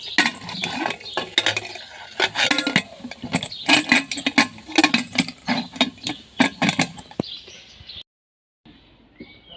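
A pressure cooker holding beef and a little water is covered and set on a gas stove, giving a run of close metallic clanks and scrapes in quick succession, then a short silence and faint clatter.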